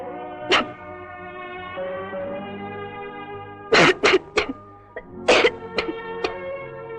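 Several sharp coughs in quick bursts, close and loud, over a background of sustained musical tones.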